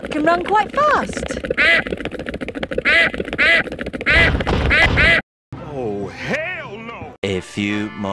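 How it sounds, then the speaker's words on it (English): A cartoon duck quacks several times in quick, nasal bursts among animated children's voices and squeals, loud and close, with other characters talking and exclaiming around it. "That duck can run quite fast!"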